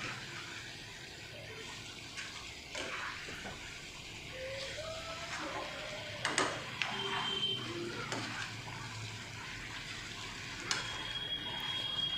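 Chicken kosha stirred in a pan, soft sizzling and wet scraping with occasional clinks of the spoon against the pan, close and moderately quiet, with no talking.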